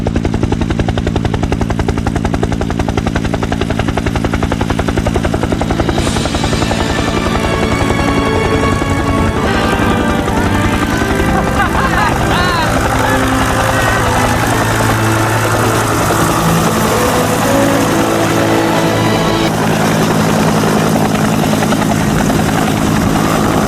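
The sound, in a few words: helicopter flying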